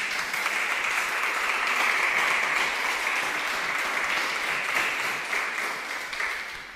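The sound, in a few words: congregation applauding in church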